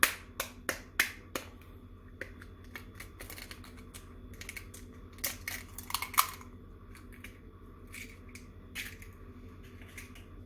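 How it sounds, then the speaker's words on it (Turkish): Eggs being cracked for a toast, a run of sharp crisp taps and cracks in quick bursts, fairly close, then scattered lighter clicks over a quiet background. "Ve yumurta kırıyoruz."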